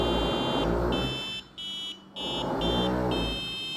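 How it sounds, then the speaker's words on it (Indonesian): An Arduino buzzer triggered by a capacitive touch sensor, part of a homemade TTP-sensor piano instrument, gives steady electronic beeps repeated in short bursts, loud and close, with no voices. "Kita colokkan power di sini, buzzernya menyala, dan jika kapasitif sensornya dipencet"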